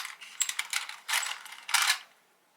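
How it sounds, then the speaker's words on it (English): Wonder Clips snapping onto black lace fabric for a lined boho fringe pocket purse, a few quick close plastic clicks and rustles in irregular bursts, with no voices. "I'm going to take my Wonder Clips and kind of clip it down"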